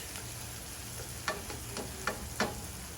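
Scrambled eggs sizzle and fry in a pan for fried rice, a steady close hiss broken by several sharp scraping stir strokes, with no talking.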